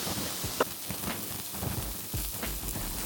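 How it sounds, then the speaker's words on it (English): Constant crackling and spitting of a cheap steak frying in a pan at medium heat, dense and close, with occasional sharper pops. "Add salt and pepper, then fry on both sides."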